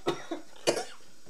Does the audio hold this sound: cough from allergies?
yes